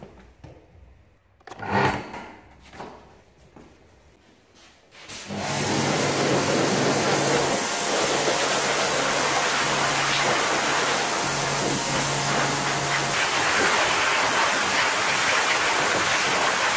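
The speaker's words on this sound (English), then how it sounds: "I need to give the mower a good wash to get rid of the grinding paste residue" A vintage lawn mower being hosed down to rinse off grinding paste residue: a few knocks and handling sounds, then loud steady water spray hissing continuously for the rest.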